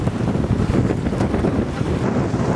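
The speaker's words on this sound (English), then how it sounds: "Wow, the wind just hit us just now." Wind gusting steadily over a sailboat under way on open water, a broad, blustery rush that buffets the microphone at close range for the whole stretch, with the wash of waves underneath.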